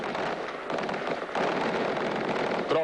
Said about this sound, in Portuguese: Tropas americanas e forças da resistência também dispararam tiros de metralhadora na batalha de hoje em Bagdá.